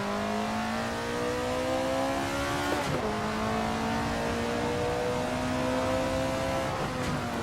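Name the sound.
AC Alfa 33 Stradale race car lapping Laguna Seca, video game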